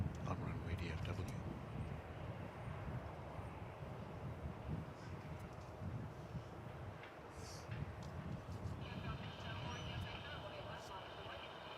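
An Airbus A319 sits on the runway at DFW Airport, its engines giving a faint, distant, continuous rumble under low background noise, with a few soft clicks and a thin tone near the end.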